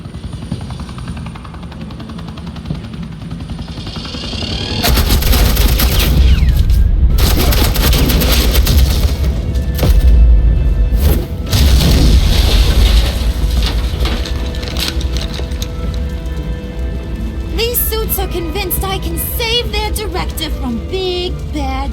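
Gunfire and explosions in the Batman Telltale video game: a quieter opening gives way to heavy sustained bursts of shots and booms over rumbling noise, loud throughout with a rattling burst near the end.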